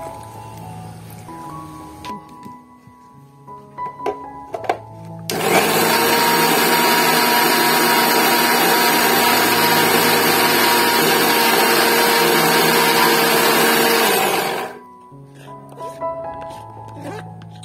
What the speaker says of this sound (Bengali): এটা ওখানে মিক্সার করুন।